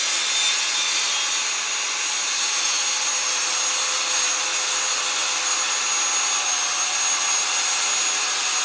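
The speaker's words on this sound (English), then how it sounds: "this next cut that I'm going to show you is a full depth with the crosscut blade on the new TSC 55K" Full-depth crosscut with the crosscut blade on a TSC 55K cordless track saw, a steady loud hissing whine held without a break from start to finish, no voices.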